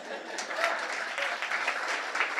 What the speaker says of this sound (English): Come on, where's my applause?